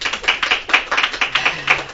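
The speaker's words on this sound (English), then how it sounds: "Let's give a round of applause for Marilyn and Friends and WAIN." Studio audience applauding for a television show taping in Atlanta, Georgia: steady crowd clapping with dense overlapping claps and regular peaks, moderately loud and close, with no talking over it.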